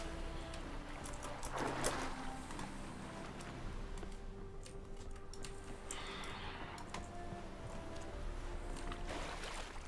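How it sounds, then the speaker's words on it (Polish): A boat travels over water in The Witcher 3, giving a steady, unbroken wash of water and hull noise with faint ticking and creaking on top, heard alone without talk. "Skakujemy teraz do łodzi."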